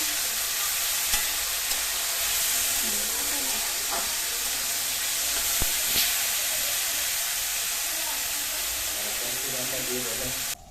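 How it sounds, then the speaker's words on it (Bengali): Vegetables for rice fry in a pan, giving a broad, steady sizzle and hiss close by with occasional soft utensil knocks, running evenly until an abrupt stop. "রাইসের জন্য সব সবজিগুলো আমি ভেজে নিচ্ছি।"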